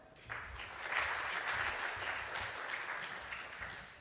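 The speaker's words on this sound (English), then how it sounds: "let's give them both a round of applause" A conference audience gives a round of applause, steady clapping rising quickly and holding for a few seconds in a large room.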